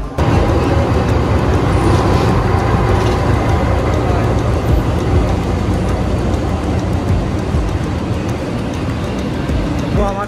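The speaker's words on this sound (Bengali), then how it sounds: "তো আমাদের ট্রেন চলে এসছে" The Doon Express pulls into a busy station on a Kolkata to Rishikesh trip, producing a loud, continuous rolling rumble and clatter heard close up.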